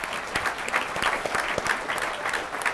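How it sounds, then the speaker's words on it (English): Audience applause at a county State of the County presentation for District Attorney Jill Ravitch, a steady, even patter of many hands clapping throughout with no voices over it. "Round of applause for Jill."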